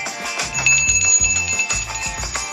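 A bright, bell-like notification chime rings out over a music bed, with a few short high tones.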